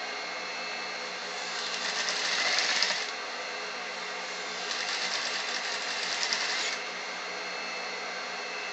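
Sewing machine stitching a double piped besom pocket in garment fabric, running in two steady bursts of a few seconds each with a pause between, close and moderately loud over a quiet background hum.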